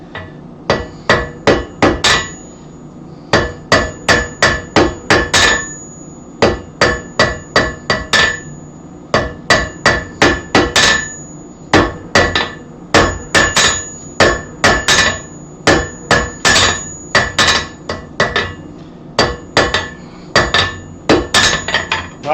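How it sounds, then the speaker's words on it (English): Steady rapid hammer blows strike a soapstone holder to knock off its corners, loud close metallic-stony raps in bursts of several quick hits separated by brief pauses, with no talking. "my hammer blows are pretty flat where they belong"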